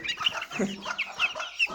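A hen clucking close by, a quick run of short, throaty clucks and squawks in an uneven rhythm, loud and alone.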